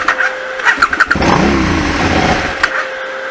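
A KTM 990 SM motorcycle engine cranks with a whirring starter, catches and runs briefly with a rough, uneven rumble, then dies away, all loud and close.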